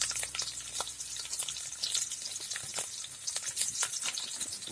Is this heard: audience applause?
no